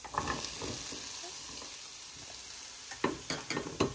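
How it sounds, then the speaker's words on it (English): Green pepper, onion and about two cups of potatoes sizzle softly in a pan over medium-high heat, a steady low frying hiss broken by a few clattering stirs near the end. "we are just going to saute this until it is all browned and softened"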